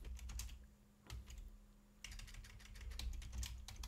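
Password being typed on a computer keyboard in a penetration-testing lab session: bursts of quick, close key clicks with a short pause mid-way, no talking.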